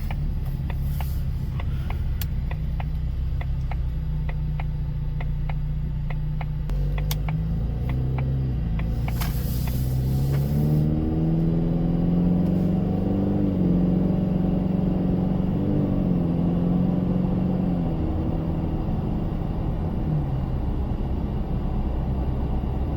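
A Ford EcoBoost car engine with an aftermarket intake idles steadily, then revs up and settles back down, a low rumbling drone heard close and continuous throughout.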